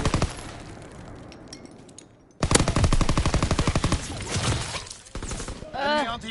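Rapid automatic gunfire in a zombie video game, one long rhythmic burst of loud, close shots after a quieter opening, with a voice talking briefly near the end.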